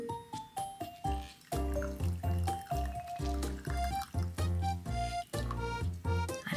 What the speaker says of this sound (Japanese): シソからもギュッと絞ってしっかりとね絞り切っちゃってくださいね。 はい、これでシソと液体をこしていきます。